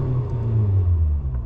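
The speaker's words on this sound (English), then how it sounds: "Ready? I can rev it." A race-tuned Honda Civic engine revs briefly nearby, a deep rumbling swell with no talk over it.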